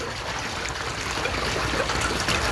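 Water streams steadily onto fish struggling in too little water, a continuous broad splashing rush that stays loud and even throughout.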